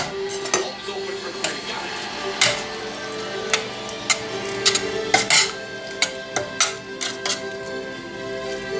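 Food frying in a pan with seasoning salt is stirred, giving a continuous sizzle broken by sharp scrapes and clicks of the utensil against the pan, some of them loud and close.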